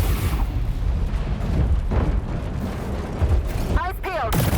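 Missile volleys in the mech combat game War Robots: Frontiers, a dense continuous roar of launches and blasts with rumbling low booms throughout and a sharp whooshing burst near the end.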